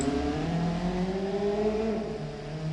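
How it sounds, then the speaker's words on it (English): A steady car engine in the video game BeamNG.drive drones with shifting, slightly wavering pitch, continuous and fairly loud with no voices. "You hear the engine of the other car?"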